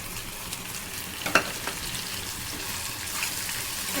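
Garlic, ginger and green chili paste frying in oil for a rui fish kalia, a steady sizzling hiss with a few sharper stirring scrapes near the middle, close and continuous with no talk.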